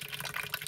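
Wort running through the grain bed of a home-brew mash, a steady close trickle of liquid pouring and splashing without pause for under a second, with no voices.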